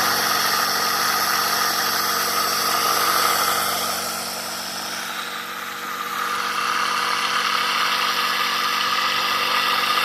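Homemade Tesla steam turbine running on steam from a firewood boiler, a loud steady whirring hum with hiss that dips briefly in the middle before returning to full strength.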